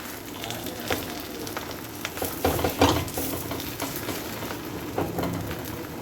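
Mooli palak paratha frying in a pan, a continuous sizzle broken by scattered crackles and a few louder pops around the middle, heard alone without talk.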